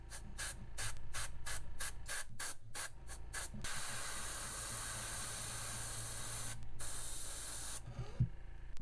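Airbrush spraying red paint onto a frog fishing lure, a close hiss that starts as a quick series of short bursts, then runs as one long steady spray with a brief break and a final cutoff.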